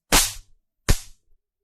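A homemade mosquito killer built from a ceiling fan capacitor fires two sharp, loud spark cracks about 0.8 seconds apart, each a brief snap with a short tail, with silence between.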